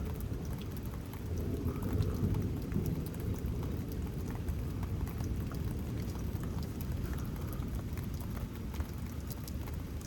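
An early-morning lightning thunderstorm in Houston, Texas: steady heavy rain pours continuously while deep thunder rumbles roll underneath, loud and close, with no voices.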